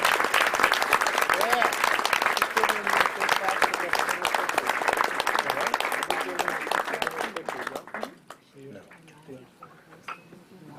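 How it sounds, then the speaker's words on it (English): Diners applaud the 2003 West Essex high school baseball team at an awards dinner, with strong sustained clapping mixed with faint clinking of dishes and glasses, then fading quickly to quiet room murmur near the end. "And a round of applause for 2003 West Essex baseball team."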